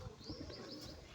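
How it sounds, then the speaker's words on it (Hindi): Pigeons cooing softly in a village setting, low faint coos repeating against a quiet outdoor background with a few small chirps. "ये कबूतर बैठे हैं"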